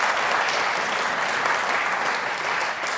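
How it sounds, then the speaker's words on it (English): A community awards audience applauds with sustained, dense clapping that stays steady and loud throughout, with no voices over it. "Another round of applause for that."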